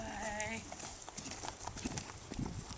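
Hooves clip-clop in an even rhythm on a hard surface, close by, after a brief whinny-like tone at the start; a voice is faintly present.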